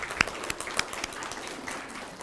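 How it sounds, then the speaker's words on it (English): An elementary school crowd at a reading competition applauds, giving scattered, fairly faint hand claps with a few sharper claps standing out over a soft room murmur. "Round of applause for JFK."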